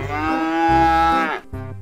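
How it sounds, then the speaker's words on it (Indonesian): An Australian white cow on a truck lets out one long, loud, close moo that bends down in pitch at the end, followed by a brief low grunt. "Ini sapi Australia teman-teman."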